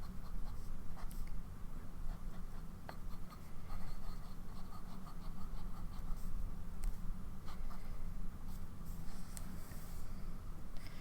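A fountain pen with a broad-writing fine nib scratches across paper in steady, continuous strokes, close and fairly faint under a constant low hum.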